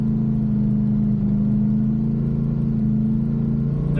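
A car fitted with a TH400 automatic transmission pulls in second gear with a loud, steady engine drone and strong low hum that holds even throughout, close and without talk.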